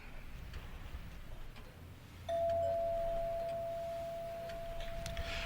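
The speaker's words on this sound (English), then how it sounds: "I meant to disconnect the bell for the night." A doorbell rings in a quiet room, one sustained electric bell tone that starts sharply partway through and holds steady and fairly loud to the end.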